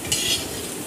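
Dry powdered spice masala being stir-fried in a pan, a steady soft sizzle with a scraping stir near the start, close and alone with no talk.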